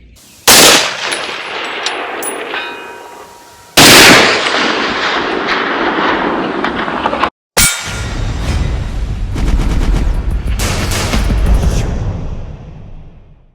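BCA Huntmaster AR10 rifle chambered in .30-06 firing outdoors: several loud, sharp reports, each trailing off in a long echo, with the last ones arriving in a quicker burst.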